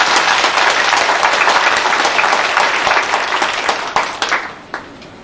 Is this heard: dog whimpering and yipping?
no